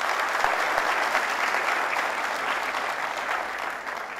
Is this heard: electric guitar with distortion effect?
no